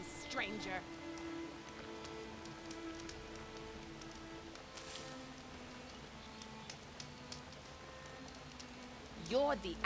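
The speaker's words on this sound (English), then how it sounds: "It's raining." Steady, soft rain patters in the video game Horizon Forbidden West, spreading as a gentle wash beneath quiet tonal game sounds, with a brief louder sound at the very end.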